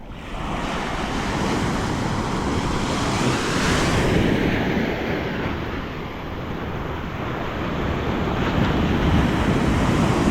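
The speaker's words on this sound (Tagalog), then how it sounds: "Sarap pakinggan ng sounds ng alon, yung tunog, no? Nakaka-relax." Ocean waves surging and washing onto a sandy beach at San Juan, La Union, a steady loud roar of surf with wind buffeting the microphone, swelling and easing slightly with no voices.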